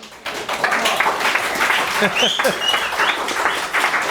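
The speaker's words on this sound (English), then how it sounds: "First of all, I want to applaud Alisa." A class applauds a student in a lecture room, with steady, dense clapping sustained throughout and a few voices calling out over it.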